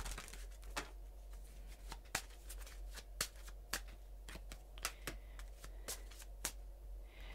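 Tarot cards being shuffled by hand, quiet close riffling with irregular sharp snaps of card edges over a low steady hum, with no speech.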